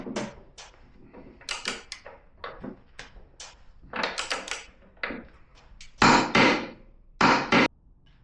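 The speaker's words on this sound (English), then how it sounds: "The last thing to do is to tighten the rear axle nut." A torque wrench tightening the rear axle nut on a Honda motorcycle, a series of sharp metallic clicks and ratcheting knocks in irregular bursts, close, growing louder toward the end.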